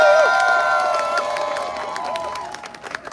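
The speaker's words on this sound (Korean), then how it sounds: "다시 한번 뜨거운 박수" Crowd at a Korean labor union rally cheering and whooping with scattered applause, loud at first then tapering off, with shouted voices mixed in.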